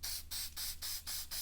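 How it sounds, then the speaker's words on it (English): Adhesive remover sprayed onto a rag during vinyl wrap prep on a Subaru WRX: five short, even aerosol hisses in quick succession, close and fairly soft. "This time I'm going to spray it on a rag."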